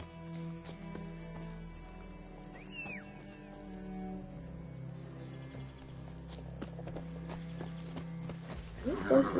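Horse hooves clip-clop in The Witcher 3: Wild Hunt as a steady, moderately close trot runs through the whole stretch, sitting under ongoing game music and a person's voice, with a brief whinny near the start.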